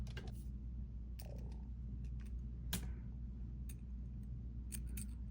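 A metal jump ring for a charm bracelet is pried open with small tools, giving a few sharp, close clicks and snips over a constant low hum.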